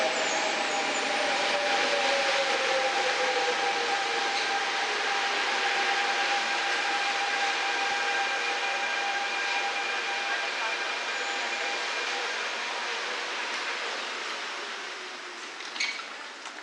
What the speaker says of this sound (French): Le RER A arrive sur le quai.